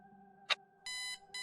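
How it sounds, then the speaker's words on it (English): A twelve-hour timer bell sounds as a short electronic ring: one quick click, then two bright, buzzy tones, close and fairly quiet, over a faint steady background hum. "A bell rings."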